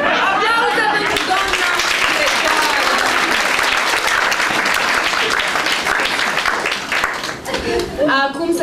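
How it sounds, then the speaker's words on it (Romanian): Applause from an audience at a storytelling performance, loud sustained clapping that fades slightly near the end as voices begin talking. "Aplauze!"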